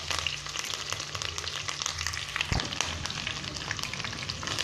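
Garlic and curry leaves fry in oil for a Chettinad fish kulambu, making a dense, continuous close-up sizzle with fine crackling. A low hum runs under the first half and a dull thump lands midway.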